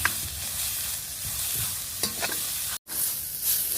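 Steady sizzling and crackling of ginger-garlic paste frying in a pan, with occasional stirring scrapes and a brief cut of silence near the end.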